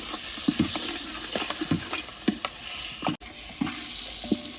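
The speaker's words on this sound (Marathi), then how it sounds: "मसाला टाकून झाला आहे ते आम्ही आता हलवून घेत आहे तेलामध्ये" Spice masala sizzling in oil for a Maharashtrian masvadi curry while a spoon scrapes and stirs the pan in irregular strokes, close and fairly loud.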